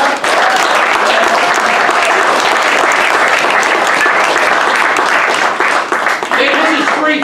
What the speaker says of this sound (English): Let's bring Dave back in. Give him a round of applause.